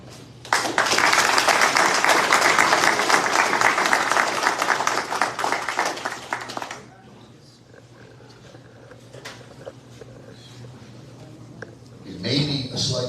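A crowd at a Hall of Fame induction ceremony breaks into loud, sustained applause for nearly six seconds, then it dies away to a quiet room with scattered sounds before a voice speaks at the end.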